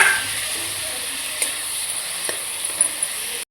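Boiled cauliflower tossed into a hot spiced pan for gobhi bhaji gives a steady, close sizzle with faint stirring scrapes, no voices over it.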